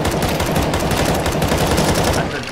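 Gunfire in CS:GO Zombie Escape on the ze_randomizer_c1 map, a dense, rapid stream of automatic shots from several weapons firing at once, loud and unbroken throughout.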